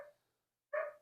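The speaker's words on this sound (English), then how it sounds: "that's the dog" A dog outdoors by a garden gives two short, clear barks separated by a brief silence, fairly close and alone without talk.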